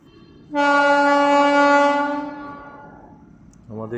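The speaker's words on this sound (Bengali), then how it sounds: "যে শিয়ালদা রাজধানী ঢুকছে।" The Sealdah Rajdhani express train entering Durgapur station sounds a loud, sustained multi-tone horn blast lasting about two seconds over low rolling rumble, then a second horn note starts near the end.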